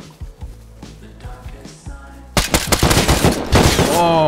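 Gunfire in the survival game Rust during a base raid: a quiet stretch of scattered distant shots, then a sudden close burst of rapid automatic fire with sharp repeated cracks that continues loudly to the end.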